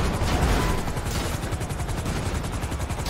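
Video game gunfire in a chaotic shootout, with a dense, continuous barrage of rapid shots and loud bursts filling the whole stretch without a break.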